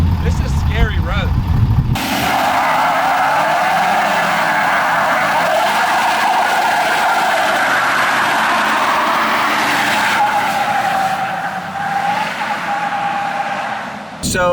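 A 2020 Ford F250 pickup with a tuned 6.7 Powerstroke diesel and no locking rear differential spins one tire, producing a loud, sustained tire squeal over engine roar that breaks off briefly near the end.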